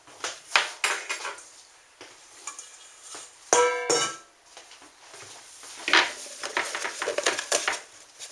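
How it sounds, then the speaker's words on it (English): A mixing bowl is cleaned out in a home kitchen, giving a run of clattering knocks, scrapes and clinks of bowl and utensils, some sharp and close, with quiet gaps between and no talking. "let me clean out the bowl and everything"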